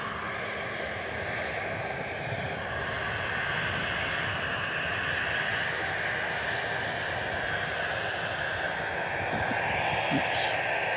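Steady broadband engine roar of a jet airliner near the runway at Dallas/Fort Worth airport, continuous and fairly loud throughout, with faint voices murmuring underneath.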